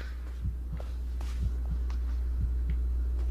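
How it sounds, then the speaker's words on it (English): A heartbeat thuds in the Blair Witch video game, paired double beats repeating at an even pace under a constant low hum. "What's that heartbeat? I hear a heartbeat."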